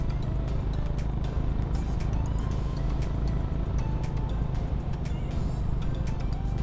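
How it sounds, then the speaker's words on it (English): Honda H'ness CB350 motorcycle exhaust while riding on a road trip, a steady loud low engine drone with wind rush, continuous throughout with traffic around. "Listen to the exhaust, guys."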